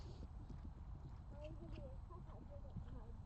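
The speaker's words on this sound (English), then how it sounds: "Looks like a lady's horse." Horse hooves clip-clop at a steady gait in an arena while a mare is ridden, heard faintly and somewhat distant under a noisy background with brief bird-like chirps.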